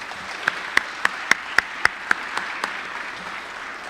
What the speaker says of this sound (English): how about another round of applause, please, for Grace Bradley and Michalah Dillard on the national anthem